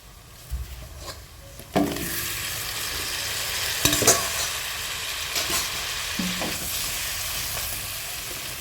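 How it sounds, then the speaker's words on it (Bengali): Pre-fried potatoes and cucumber sauté in a pangas fish curry, a steady loud sizzle broken by several scraping stirs of a spatula against the pan, close up with no talk. "এখানে ভেজে রাখা আলু আর শশাগুলো দিয়ে আবারও একটু কষিয়ে নিচ্ছি"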